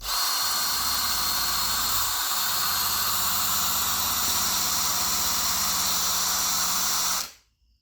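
A rotary brass brush polishes an Elsinore fuel valve with a steady, loud, close hissing whir that runs unbroken for several seconds before cutting off abruptly.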